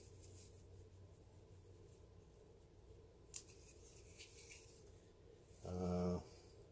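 Scissors cut top growth off a cannabis plant during pre-flower crop training, with faint, close snips and light leaf rustling in a quiet room, followed by a brief low hum near the end.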